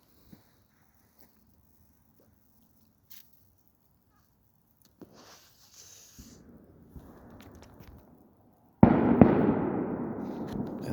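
Christmas fireworks shells go off in the distance, scattered faint pops and crackles followed by one loud boom with a long rolling decay near the end.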